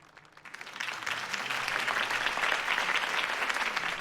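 A crowd in the Batman Telltale Series video game applauds after Harvey Dent's campaign speech; clapping swells from a soft start into steady, dense applause that fills the clip, with no talking.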